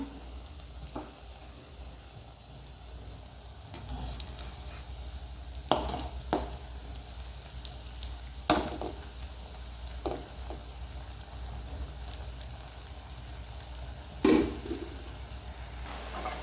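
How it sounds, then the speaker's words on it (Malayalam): Pieces of a green gram and banana snack frying in coconut oil, a soft, quiet bubbling sizzle that runs throughout, broken by scattered spatula taps and clinks against the pan. "നമുക്ക് ഈ ഭാഗം കൂടി ഒന്ന് ഫ്രൈ ചെയ്തെടുക്കാം"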